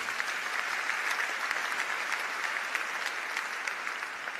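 A church congregation claps steadily in a dense, sustained wave of applause at a sermon service, filling the room evenly from start to finish with no voices standing out.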